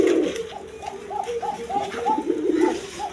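Domestic pigeons coo on a farm where they are sold, a run of soft, rhythmic, repeated low coos from several birds close by, with no clear voices over them.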